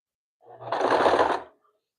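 A sewing machine stitching fabric runs in one short, steady burst of about a second, close and fairly loud, with a low mechanical hum beneath a dense whirring buzz and no talking.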